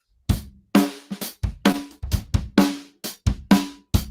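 Drum groove played on a kit without the left hi-hat foot: sharp, punchy kick, snare and tom hits in an uneven rhythm, close and loud, with short gaps between strokes and no talking.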